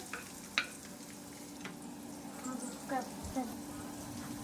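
Curry leaves, onion and green chili frying in oil with mustard seeds, a faint continuous sizzle with occasional stirring clicks and scrapes, and a voice speaking briefly over it.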